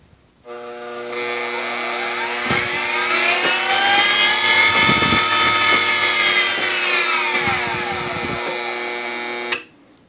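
Treadmill motor driving the Z-axis of a Grizzly G0761 (RF45) milling machine, starting with a click, then a steady rising electric whine and mechanical rumble that holds for about nine seconds before cutting off abruptly.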